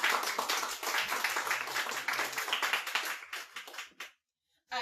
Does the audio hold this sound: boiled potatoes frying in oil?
no